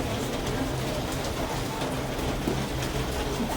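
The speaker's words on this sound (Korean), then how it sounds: "이거니까 비가 더 많이 오네" Steady rain falls on a gray, stormy day, a dense, even hiss of drops that stays constant and fairly close throughout, with no voices.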